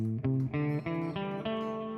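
A guitar plays a quick run of single notes climbing up a minor pentatonic scale, each note clear and ringing, close and moderately loud.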